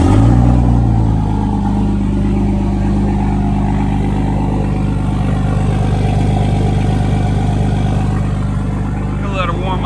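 A Cummins diesel truck engine idling right after a cold start in a snowstorm: a loud, steady, low rumbling idle with a clattery knock that holds even throughout.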